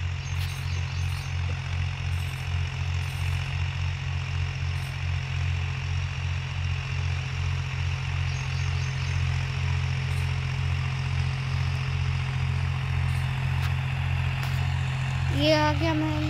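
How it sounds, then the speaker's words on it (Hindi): A Mahindra 265 DI tractor ploughs dry land, its engine a steady, close, low drone that holds evenly throughout with a slight pulsing rumble, and a brief higher chirp near the end. "और ये महिंद्रा इन्होंने अच्छा चला रखा है।"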